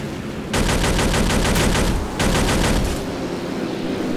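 Loud sustained anti-aircraft gunfire in ArmA II, a dense rapid stream of shots in two long bursts with a brief gap between, then fading to a rumbling tail.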